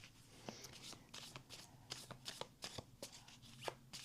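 Tarot cards are shuffled by hand in a rapid series of soft flicks and riffles, close but very quiet, with no talking.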